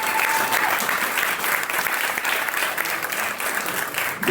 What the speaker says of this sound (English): let's give this amazing panel a big round of applause